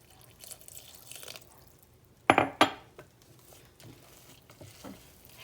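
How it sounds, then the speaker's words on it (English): A little water is added to Navajo flatbread dough in a bowl, giving two quick close splashy bursts amid soft scraping and stirring. "This looks a little dry to me, so I'm going to add a little more water."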